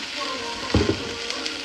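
Tomato is poured into a hot pan while making jollof rice, giving a sudden splashing burst that settles into a soft, close sizzle.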